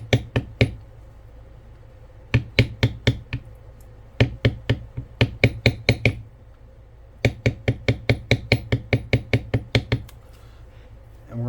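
A beveling tool struck by a mallet presses a pattern into a leather belt with acorns and oak leaves, in bursts of crisp rapid taps, steady and close, grouped in runs with brief pauses between.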